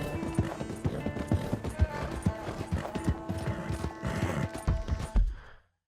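Horse hooves clatter across a wooden bridge in Red Dead Redemption 2, a busy, hollow clip-clop of rapid, close hoofbeats over a constant ambient bed that ends in an abrupt cutoff.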